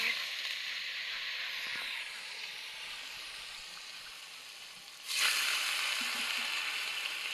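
Rohu fish pieces sizzle in hot oil with a steady, close hiss that swells suddenly louder partway through as more pieces go in, with no talking.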